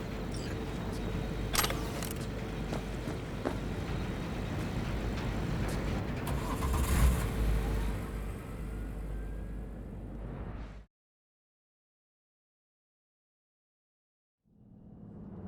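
A car driving in the video game Cyberpunk 2077, with a steady loud engine and road rumble for about eleven seconds, then silence before the engine noise returns near the end.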